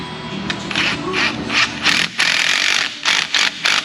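A ratchet tightening bolts on a 1995 Jeep Wrangler 4.0, a close series of rapid clicking bursts in short repeated strokes, loud and without talk.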